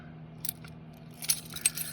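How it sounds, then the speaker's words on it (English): Keys on a keychain jangle in a few short bright bursts close to the mic, with quiet pauses between the clinks and no voices. "Let's start with my keys."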